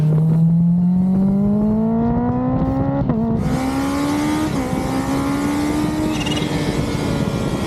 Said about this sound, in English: this is how the acceleration of the H2 feels